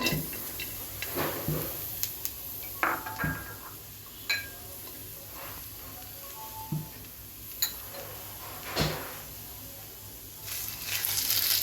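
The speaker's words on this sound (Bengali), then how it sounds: "চুলাটা জ্বালাই নিলাম। পেঁয়াজটা দিচ্ছি।" Onion sizzling in a pan on a lit stove, a faint steady hiss with scattered soft clicks and taps of utensils, no talking.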